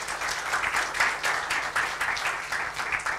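Audience applause for a speaker at a mobile app marketing event, a steady dense wash of clapping lasting throughout at moderate loudness with no voices.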